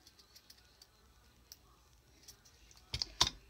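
Scissors snip twine tied on a handmade corrugated cardboard tag, giving two sharp close clicks near the end after quiet faint ticks.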